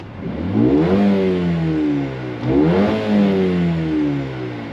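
A parked Mercedes-AMG A35 (W177) is revved twice, each blip climbing smoothly then falling back to idle, loud and close with no voices.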